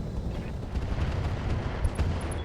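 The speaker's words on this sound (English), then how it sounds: "Give him Machine gun ammo explosion, and he's gone." Machine gun ammunition cooking off in a mech's torso in the RogueTech battle game, heard as a dense, loud rumble of blasts and crackling fire with no clear gaps, alone without talk.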